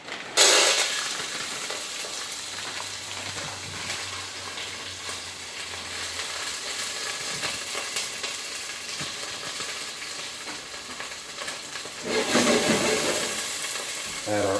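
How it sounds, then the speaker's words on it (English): Peas and carrots tip into a hot pan and fry with a loud sizzling hiss that settles into steady crackling, then swells again near the end; no voices over it. "we're gonna add our peas and carrots"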